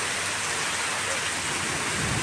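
Heavy rain pours steadily onto a flooded village yard, a dense continuous hiss with no voices.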